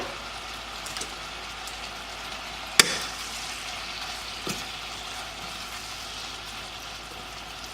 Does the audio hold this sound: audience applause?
no